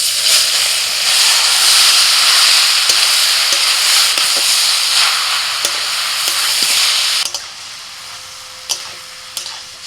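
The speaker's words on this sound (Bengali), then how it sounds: "কড়াইতে অল্প করে তেল দিয়ে দিয়েছি, তেলটা গরম হয়ে গেলে এবার দিয়ে দিচ্ছি আম।" Raw mango pieces hiss and sizzle loudly in hot oil in a wok, a dense steady frying roar that drops away sharply near the end, leaving a quieter crackle and a few clicks.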